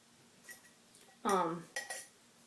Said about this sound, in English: I stir it up with a fork to make sure that my grinds and my coffee are fully integrated.